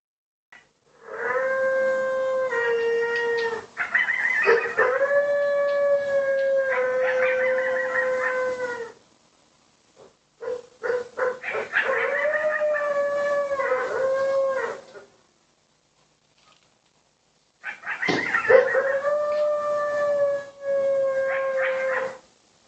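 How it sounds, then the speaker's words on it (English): A pack of coyotes howls near a barn in three long bursts of wavering, overlapping yips and rising howls, separated by brief silences, fairly close and clear with no talking. "if you've never heard a pack of coyotes, this is what they sound like"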